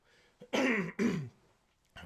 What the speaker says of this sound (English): sorry about the coughing in your ear